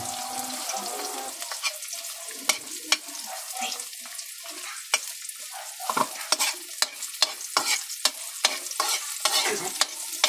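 A spoon scrapes and stirs onions sizzling in a frying pan for a simple home-cooked dish, with frequent sharp clinks and scrapes over a continuous close sizzle.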